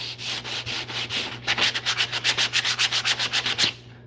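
Hand sanding with 80 grit sandpaper, steady back-and-forth rasping strokes, slower at first then a quick even rhythm of about a dozen loud close scrubs before stopping.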